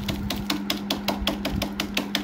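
Screen printing sensitizer powder is crushed inside its packet with a run of evenly spaced sharp taps, about a dozen crisp knocks in quick rhythm, close and moderately loud with a low hum beneath.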